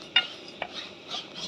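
A spoon stirs rice as it browns in a pot: two brief, distinct scrapes or clinks against the metal, then soft, continuous scraping, close and with no talking.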